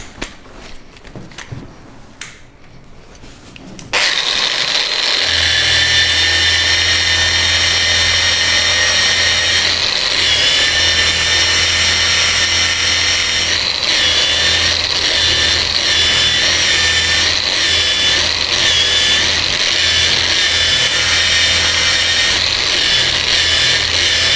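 A surface conditioning disc on a grinder works a square stainless steel tube, a continuous loud, rough abrasive whir starting after a few seconds of faint clicks and handling noise and holding steady to the end.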